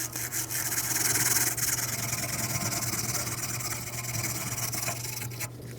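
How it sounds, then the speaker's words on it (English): Wire brush scrubbing rust and debris off the rear brake parts of a 2016-2022 Mercedes-Benz GLC300, a steady close rasping scrape running continuously over a low background hum. "For me, a wire brush will work just fine."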